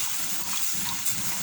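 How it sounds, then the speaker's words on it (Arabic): Milk poured slowly into a pan while making a ground-meat and potato gratin, a steady gushing liquid pour heard close and alone for a brief moment. "نزيد الحليب غير بشويه بشويه، بحال غادي نكب واحد الكميه بحال هكا"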